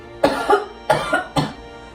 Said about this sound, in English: what is going on with this cough?